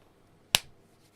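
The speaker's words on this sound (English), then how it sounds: "that's the clap I'm gonna use" A single sharp hand clap, close and loud, standing alone against a quiet room and fading quickly.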